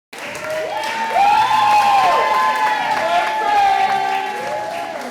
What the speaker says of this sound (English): Educators clap students in at Robert H. Jameson Pre-K through 8 school